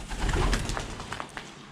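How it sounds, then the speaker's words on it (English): Soft, throaty cooing from pigeons roosting in an abandoned 1920s Victorian school, a few close calls with light fluttering and no talking. "Birds."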